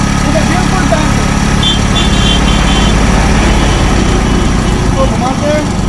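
A Hero Honda Splendor motorcycle engine runs steadily and loudly up close, a constant idling drone with a faint rattle, alone with no talk.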